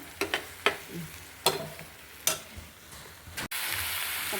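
Ground tomato paste goes into frying masala for a curry, a faint sizzle marked by a handful of sharp spoon clatters against the pan, then a sudden louder, steady hiss near the end; no voices.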